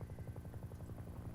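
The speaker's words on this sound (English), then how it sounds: "Helicopter." Helicopter rotor thumping steadily from a TV show, a fast low chopping pulse heard through speakers at moderate volume, with no talk over it.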